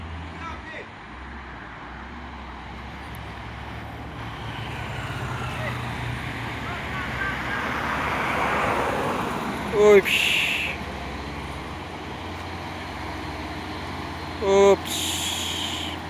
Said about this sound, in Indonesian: Ini truk Hino box.